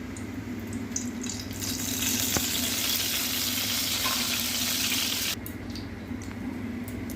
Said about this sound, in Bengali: এবার আমি কড়াইতে তেল দিলাম।